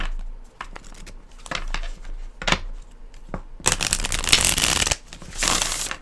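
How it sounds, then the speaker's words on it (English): A tarot deck with sturdy card stock is shuffled by hand close up, crisp riffling flutters broken by brief pauses and then a long dense burst of cards snapping together, with no talking. "A beautiful shuffle."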